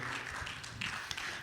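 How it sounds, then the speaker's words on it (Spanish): Church congregation applauding, a short, dense burst of many hands clapping at moderate distance, steady and without voices. "Démosle un buen aplauso a nuestro Dios"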